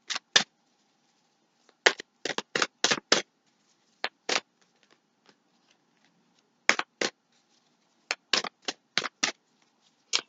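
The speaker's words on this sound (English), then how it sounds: "let's do some shuffling" Tarot cards being shuffled by hand, in repeated crisp riffling bursts, some single and some in quick clusters, separated by short pauses, close and clear with no talking.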